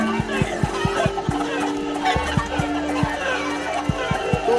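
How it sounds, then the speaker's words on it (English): Chickens cluck in Totally Accurate Battle Simulator amid the noise of a busy game battle, with rapid repeated clucks over a steady music bed. "He goes and he's spewing up chickens."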